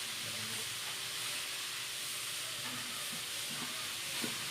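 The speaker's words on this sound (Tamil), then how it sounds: "இப்போ நல்லா வதக்க விட்டுடலாம்." Chicken sautéing in a pan for mini samosas gives a steady, quiet sizzle and hiss, with a few faint stirring clicks near the end and no talking.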